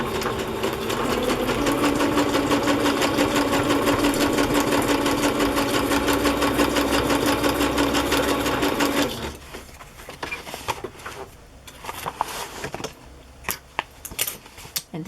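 A sewing machine runs a zigzag stitch across a decorated journal page, a close, fast rhythmic whirring for about nine seconds, then stops, leaving light handling clicks and rustles.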